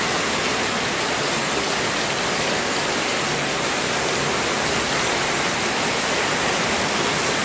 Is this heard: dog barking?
no